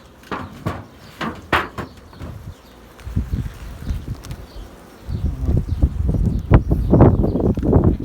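The lid of a three-storey beehive is lifted outdoors on a breezy day, giving a series of close wooden knocks and scrapes, followed by a louder, denser rustling rush that builds toward the end.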